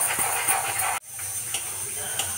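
Onions fry in hot oil in a kadhai while browning, giving a steady close sizzling hiss. The hiss cuts out for a moment, then carries on with faint pops.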